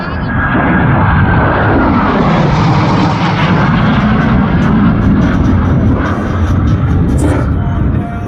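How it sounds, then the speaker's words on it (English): US Navy Blue Angels jets sweep past at an airshow, a loud, sustained roaring engine rush that swells and fills the scene from start to end, with faint crowd noise beneath. "Blue Angels 5 and 6 are approaching the flight line at 400 miles per hour."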